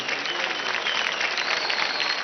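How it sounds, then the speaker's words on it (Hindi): Loud, dense applause from the audience at a dance audition for a televised dance competition, sustained clapping without a break and no speech over it. "एक बार जोरदार तालियां हो जाए अरुंधति के लिए।"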